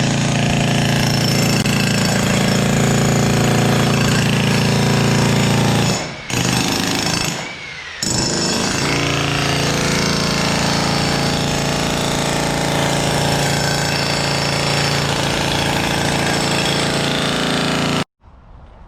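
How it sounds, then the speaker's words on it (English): Jackhammer breaking open a concrete floor, a loud, close, continuous pounding roar that pauses briefly twice and then cuts off near the end. "And now we're gonna go break open the concrete."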